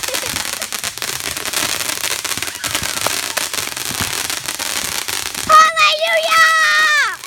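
Fireworks explode in a rapid run of sharp cracks and pops while kids talk and shout nearby, followed by a bright whistling sweep at the end.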